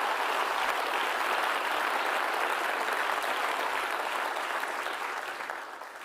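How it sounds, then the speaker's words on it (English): Sustained applause from the audience at the 2024 UNHCR Nansen Award ceremony, a dense, even roar of many hands clapping for about six seconds before easing slightly at the end. "Another round of applause, please."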